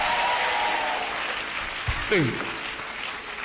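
A church congregation applauds during a French-language sermon, a dense, steady wash of clapping that fills the whole stretch, with a single sharp shout of a voice cutting through near the end.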